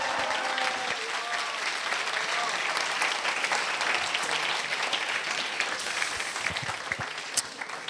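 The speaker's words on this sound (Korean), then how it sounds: "다시 한번 큰 박수로 여호수아님을 격려해 주시기 바랍니다." Audience at a school academic festival gives a presenter sustained applause, a dense wash of clapping that stays loud and steady throughout with a faint voice briefly underneath at the start.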